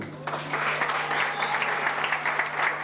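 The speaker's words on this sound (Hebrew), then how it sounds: "קודם כל מחיאות כפיים לקרן." An audience at a live show in a club applauds for Keren, a sustained burst of clapping that swells and holds, with a steady hum underneath.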